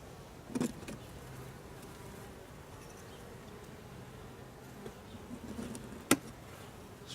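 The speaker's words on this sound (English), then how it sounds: "Oh, there's still a bunch of bees underneath." Bees buzzing steadily around an open beehive during an inspection, a faint continuous drone with a couple of brief louder knocks or bumps.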